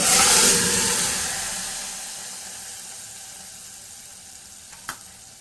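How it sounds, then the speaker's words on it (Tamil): Fennel seeds, cinnamon and cloves sizzle in hot frying oil, starting as a loud crackling hiss that gradually fades to a soft simmer, with one sharp utensil clink near the end. "இப்போ சோம்பு பட்டை கிராம்பு பொரிஞ்சிச்சு"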